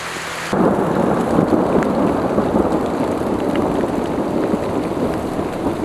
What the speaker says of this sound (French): Lentement, l'orage s'éloigne. Le tonnerre s'estompe. Mais la pluie continue.